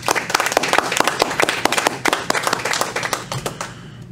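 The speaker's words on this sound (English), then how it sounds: "let's give her a round of applause" A room at a town board of education meeting fills with brisk, dense clapping honoring a retiring staff member, close and lively, fading out at the end.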